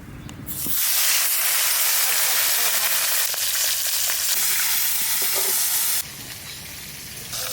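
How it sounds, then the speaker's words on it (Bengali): River fish frying in a pan sets off a loud, close, dense sizzle that bursts in within the first second, roars steadily, then drops suddenly to a lower crackle near the end. "এবার নদীর চালা মাছটা ভেজে নেই"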